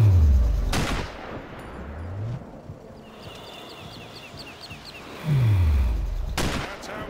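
Sniper rifle fire in the video game Sniper Ghost Warrior: two loud, close shots about five seconds apart, each a sharp broadband crack with a booming low tail, separated by quiet ambient game sound.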